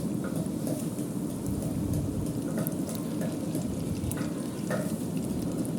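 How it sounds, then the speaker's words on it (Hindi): Chicken fingers of spicy crispy chicken breast frying in hot oil over a medium flame, a steady dense sizzle and crackle with scattered pops, continuous throughout. "ऑयल हमारा गर्म हो गया है, अब इसमें डाल देते हैं।"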